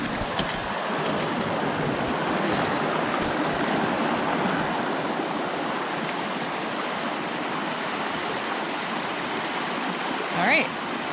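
Rushing mountain stream at a water crossing on the Thoreau Falls trail in the Pemigewasset Wilderness, a steady broadband wash of flowing water close by, continuous throughout with a brief faint sound near the end.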